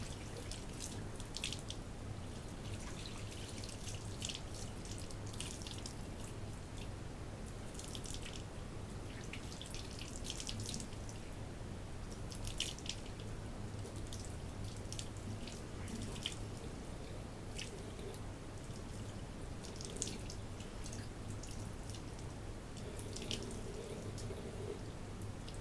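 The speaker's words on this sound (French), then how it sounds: "Donc j'ai rincé à l'eau" Tap water runs steadily at a sink while a face scrub is rinsed off, a soft continuous trickle with faint dripping and splashing, fairly quiet and alone throughout.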